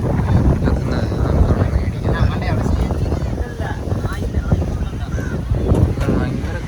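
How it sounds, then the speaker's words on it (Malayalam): Strong wind blows hard across the microphone by the Bay of Bengal, a loud buffeting roar that rises and falls throughout, with a person talking under the gusts. "ഭയങ്കര കാറ്റുണ്ട് ഇവിടെ."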